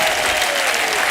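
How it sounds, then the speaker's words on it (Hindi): A short burst of loud, dense studio audience applause on a TV comedy show, steady clapping with a faint tone running underneath. "जोरदार तालियां अन्ना के लिए।"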